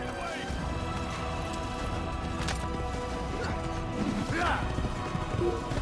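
Horse hooves clatter in an uneven, busy rhythm amid rustling commotion in Assassin's Creed, with voices speaking over parts of it.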